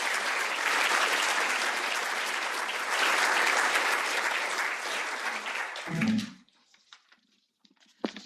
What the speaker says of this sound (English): Round of applause for Louise